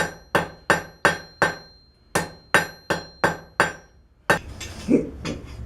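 A blacksmith hammers steel to taper it while forging a decorative flag holder, a run of about ten loud ringing metallic blows at a steady rhythm, followed by a clattering scrape.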